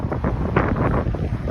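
Strong wind buffets the microphone during a hot-weather bike ride, a steady loud roar with gusting surges and no voices.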